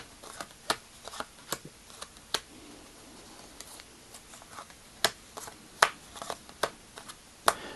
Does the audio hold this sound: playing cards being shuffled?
yes